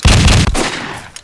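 A loud, close burst of rapid gunfire in the video game Counter-Strike, cutting off abruptly and leaving a short fading tail.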